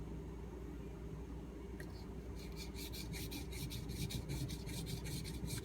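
A knife blade rubs across a Suehiro whetstone, starting as a faint scrape and then settling into a run of rhythmic rasping strokes back and forth, close and clear.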